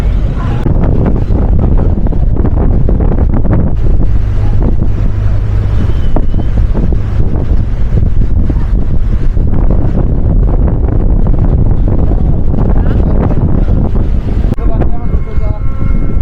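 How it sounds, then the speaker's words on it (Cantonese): Strong wind roars into the microphone, loud and constant, on a ferry crossing to Udo island off Jeju, with engine rumble beneath and people speaking now and then. "大風啲啦。"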